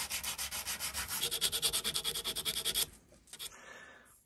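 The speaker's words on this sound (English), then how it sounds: "So I'm just going to finish just getting a wee sand." A small grey cast iron plate for a plough plane depth stop is sanded by hand in about two dozen quick, rhythmic rasping strokes, close and clear, then the scraping stops and a few faint handling noises follow.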